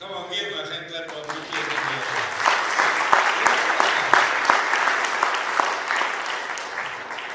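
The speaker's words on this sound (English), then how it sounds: "give a hand clap of" A church congregation breaks into sustained applause during a sermon, steady dense hand clapping building in after a brief musical tone and continuing loudly throughout.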